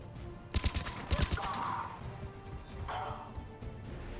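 Enemy gunfire in Mass Effect 3, two quick clusters of sharp cracking shots about half a second apart, followed by softer whooshing impacts over a low background rumble.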